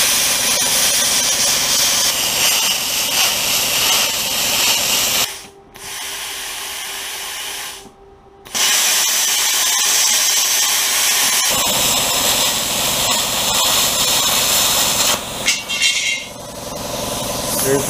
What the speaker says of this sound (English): I'm ready with the plasma.